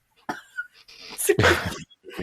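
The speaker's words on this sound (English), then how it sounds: "my cat is sneezing behind me" A small sneeze bursts out among faint background sounds, with a couple of quieter snorts and shuffles around it; no talking.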